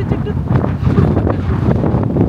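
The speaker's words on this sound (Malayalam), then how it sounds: "ശരിക്കും നല്ല കാറ്റാ" Strong wind blows outdoors, buffeting the microphone in a steady loud rumbling roar throughout.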